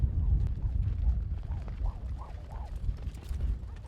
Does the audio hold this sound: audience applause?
no